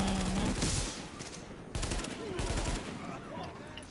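A turret gun in a PS4 shooter fires a rapid stream of loud, close shots in staccato bursts that run through the whole stretch.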